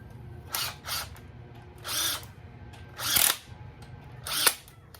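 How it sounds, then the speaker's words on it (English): A power drill spins bolts into an LQ4 6.0 V8 engine during a rebuild, giving five short whirring bursts separated by pauses, close and fairly loud, with no voices. "Screw these bolts in."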